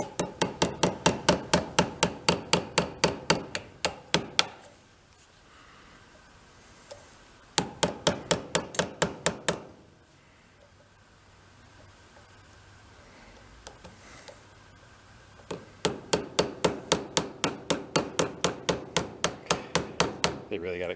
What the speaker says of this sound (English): My screwdriver's getting shorter and shorter as I'm hammering on it.